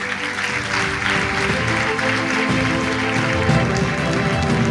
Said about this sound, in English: I think they need a round of applause for that.